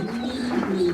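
Pigeons cooing at a farm with pigeon towers, a steady low rolling coo running continuously through the second, fairly close and clear with no talk.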